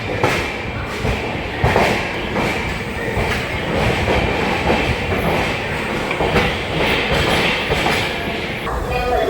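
A superfast express train near Vijayawada rumbles along steadily with rhythmic clacking of wheels on the rails, loud and close throughout.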